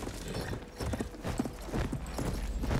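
Horse hooves clip-clopping in Battlefield 1 as a ridden horse moves and turns, a busy, fairly close patter of hoofbeats with rumbling game noise underneath and no talk over it.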